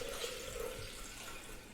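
Water pours from a container into a bowl on kitchen scales, a soft continuous trickling stream that stays faint and even throughout.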